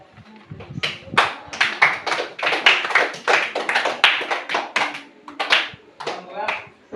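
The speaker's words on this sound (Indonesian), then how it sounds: "tepuk tangan Dut." A school class claps hands in a rhythmic patterned cheer during an Indonesian language lesson, a steady series of sharp, close claps lasting several seconds with voices mixed in.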